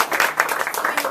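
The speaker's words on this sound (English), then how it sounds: "Applause again." A short burst of audience applause at a Toastmasters meeting, a quick patter of clapping hands in a room with a faint voice underneath.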